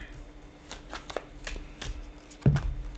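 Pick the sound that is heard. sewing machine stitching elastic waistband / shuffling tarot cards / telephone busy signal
shuffling tarot cards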